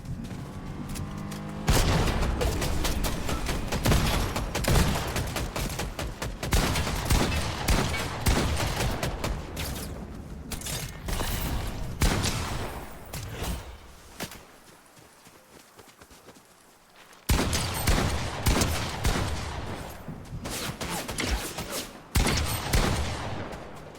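Rapid bursts of gunfire from a Fortnite Zero Build match ring out loud and close, with dense volleys pausing briefly midway before resuming in sharp repeated blasts.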